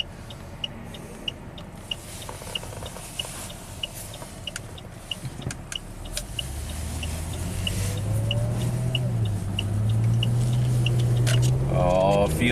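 Saab V6 turbo car accelerating hard on a test drive after an injector misfire repair, engine note climbing steadily in pitch and loudness from inside the cabin, with faint ticking and a brief voice near the end.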